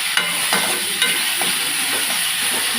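Carrot and capsicum stir-fry with onion in a hot pan for homemade vegetable noodles: a continuous close sizzle with occasional scraping stir strokes.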